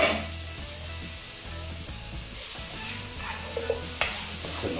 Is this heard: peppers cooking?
yes